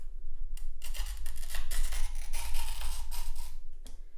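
A glass cutter scores a sheet of stained glass edge to edge under light pressure, making a close, steady gritty scratching with a few brief bursts, heard alone.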